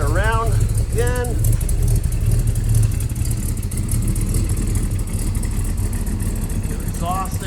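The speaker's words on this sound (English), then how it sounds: "It's got that big block power here. Well, let's rev it up here." A 1966 Chevrolet Impala SS hardtop with a 396 big-block V8 (325 hp, four-speed manual) rumbles steadily with deep, loud low-end exhaust, while someone talks over it at the start and end.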